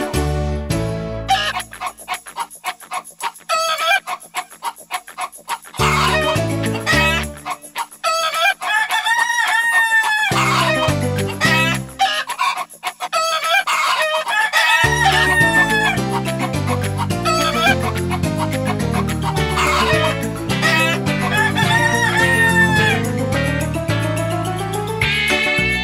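Hens clucking and roosters crowing in a henyard, set within a song with steady instrumental music and sung melody throughout; the crowing and clucking sound like imitated or musical effects layered over the tune rather than a real farmyard.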